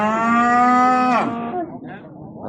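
A single loud, drawn-out moo from a nearby cow at the Kegeyli livestock market, followed by quieter background murmur and scattered noise.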